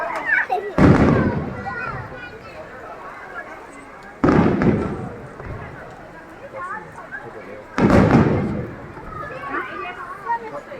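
Fireworks at an outdoor show at an outlet mall burst three times at spaced intervals, each a loud boom trailing into crackle, with people talking nearby throughout.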